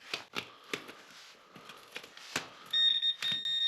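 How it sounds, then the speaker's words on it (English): A metal detector sweeping over mineralized ground near a cave gives a sharp electronic tone near the end, after a series of brushing, scraping knocks as the coil moves. "it's beeping at something over here"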